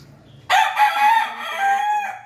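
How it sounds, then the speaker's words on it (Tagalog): A rooster crows loudly and close by in one long drawn-out call, with faint clucking before it. "yun ang ating mga manok sa baba"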